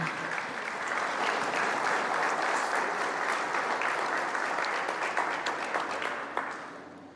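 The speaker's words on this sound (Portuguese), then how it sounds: "Aplauda forte ao nosso Deus vivo" A church congregation applauds together in a sustained, even wash of clapping that rises and holds for several seconds before tapering off, heard from within the room.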